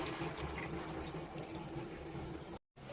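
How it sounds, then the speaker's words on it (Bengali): Rinse water from a sour yogurt bowl is poured into a pan of fish curry, a soft continuous splashing trickle close by that breaks off briefly near the end. "এই যে টক দইয়ের বাটিটা ধুয়ে ওই জলটাই দিয়ে দিলাম।"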